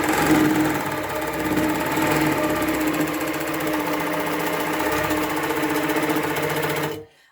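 A longarm quilting machine stitches along a ruler in a steady, loud, continuous run at close range, then stops abruptly at the end.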